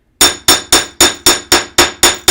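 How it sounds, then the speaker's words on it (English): Hammer strikes on metal being textured, nine sharp, loud ringing blows at an even, quick rhythm, each decaying briefly before the next. "If you want to, you can hammer the whole entire thing."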